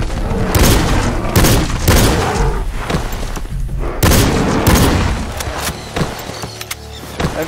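Loud booming gunshots from a hunting rifle in the video game Cabela's Dangerous Hunts 2013, several heavy blasts at irregular intervals with rumbling tails and mechanical clatter between them.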